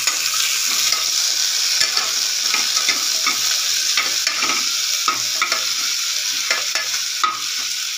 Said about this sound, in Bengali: পেঁয়াজ টমেটো ভালো করে ভাজা হতে থাক